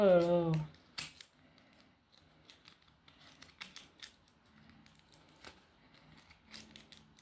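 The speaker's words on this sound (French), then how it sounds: "Je suis obligée d'utiliser mes ciseaux à chaque fois." A brief voice opens before a pair of scissors makes faint, scattered snips and clicks at irregular intervals against a quiet room.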